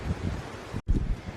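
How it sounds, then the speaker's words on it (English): Gusty outdoor wind buffets a microphone with heavy low rumbling, cutting out for a split second before the blustery roar returns just as strong. "It's windy, if you haven't already noticed. So it may or may not affect the quality of the sound"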